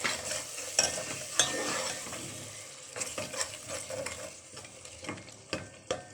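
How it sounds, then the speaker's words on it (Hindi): Yogurt stirred into mashed tomato and fried in a pan for a chickpea and egg curry, with scraping spoon strokes over a steady sizzle, close and fairly loud, no talking. "अब इसको भूनते हैं।"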